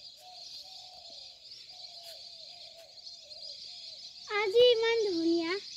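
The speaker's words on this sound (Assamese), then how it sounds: "চৰাই চৰাইবোৰ উৰি আছে চাওকচোন" Small birds call faintly outdoors in the open fields, scattered chirps over a high insect-like hiss, then a person speaks loudly near the end.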